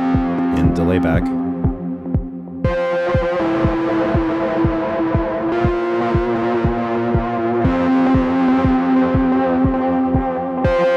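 A pulsing synth pattern through a Collision Devices Black Hole Symmetry pedal with delay, each repeated note echoing behind it in a steady rhythm, with sustained notes shifting between chords.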